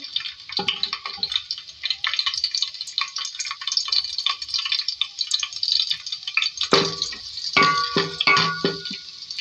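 Cut green chilies and two bay leaves frying in oil, a light crackling sizzle with scattered spits and pops, growing busier near the end, close and moderately loud with no speech.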